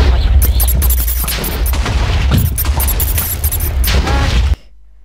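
Rapid bursts of explosions from the Minecraft Rage Mode game, where arrows make opponents blow up, pounding loud and dense for over four seconds before cutting off abruptly.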